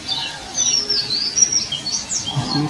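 Songbirds chirp and tweet in a forest, several high calls overlapping in a steady chorus of varied phrases, fairly close and clear, with no voices.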